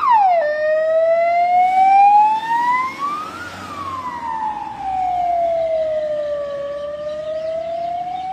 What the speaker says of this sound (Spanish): Otra de las ambulancias que sale de aquí desde el sector.